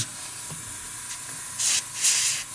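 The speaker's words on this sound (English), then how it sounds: "Might as well spray that a little bit in there." Short hissing bursts of spray paint or an airbrush on a scale model tank's antenna holder, two soft sprays close up against faint background hum.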